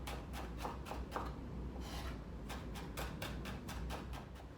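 Knife finely chopping a vegetable on a board, a run of quick, evenly spaced taps close by with a brief pause midway, no talk.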